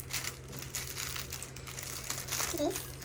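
Plastic packaging from a Temu parcel crinkles and rustles continuously at close range while an item is unboxed, with a steady low hum behind it.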